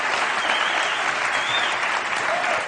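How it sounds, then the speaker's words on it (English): Dense, continuous hand clapping fills the whole moment, fast and loud like a burst of applause, with no pauses. "you may be wondering why I'm clapping"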